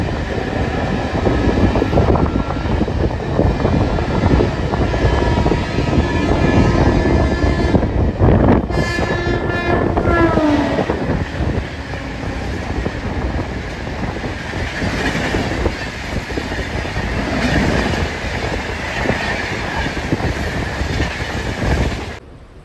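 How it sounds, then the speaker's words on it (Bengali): Howrah to Puri local train running along the line, a loud continuous rumble and rattle of carriages with rhythmic wheel clatter and a brief squeal of wheels midway, no voices. "ফাইনালি হাওড়া থেকে 183 কিলোমিটার যাত্রা অতিক্রম করে আমাদের ট্রেন এখন এসে পৌঁছালো"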